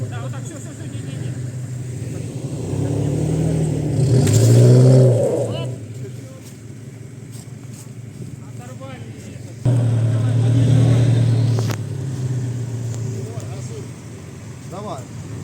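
A Lada Niva off-road in autumn mud revs hard in two loud surging bursts with quieter idling between, while people shout instructions nearby.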